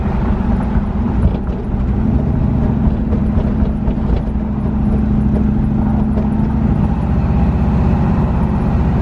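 Car with a freshly rebuilt 4L80E automatic transmission driving and shifting gears, a steady low engine and drivetrain drone heard from inside the cabin, loud and continuous with slight rises between shifts and no talking.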